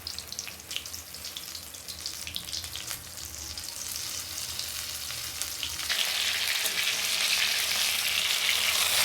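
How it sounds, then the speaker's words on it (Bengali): Pakoras coated in a batter of gram flour, egg, cornflour and ginger-garlic paste frying in oil, a continuous close sizzle that grows louder and denser in the second half, with no talking. "পকোড়াটা ভাজছি"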